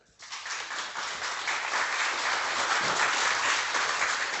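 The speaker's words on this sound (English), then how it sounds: "Round of applause for Philip." Applause at a memorial gathering, a steady wash of many hands clapping that swells in quickly and holds at a full, even level throughout.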